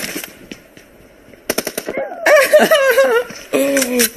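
Gunfire from a shooting video game comes in loud rapid automatic bursts of close, sharp shots, overlapped by excited shouting and voices.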